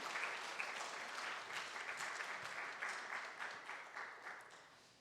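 A church congregation applauds after a baptism during a Sunday worship service, with steady, moderately distant clapping from many hands that fades gradually toward the end.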